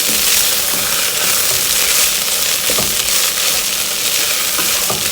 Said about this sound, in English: the tofu, still frying up.